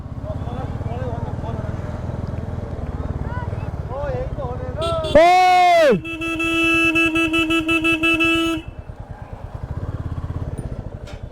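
Motorcycles in a group of five ride together on a road, engines running steadily through most of the stretch while a loud horn blares for a few seconds midway and people talk over the engine noise.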